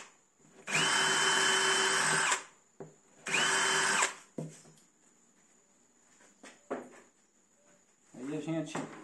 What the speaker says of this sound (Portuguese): é necessário que a gente abra um furo, né? Primeiro, na peça para a gente acoplar o gabarito